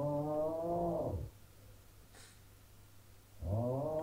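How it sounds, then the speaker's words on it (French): A cat meows twice, a drawn-out cry, then a pause with a faint rustle, then another meow starting. "C'est mon chat."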